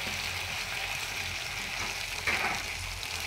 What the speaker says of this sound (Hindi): प्याज को चलाएँ चम्मच से घी के अंदर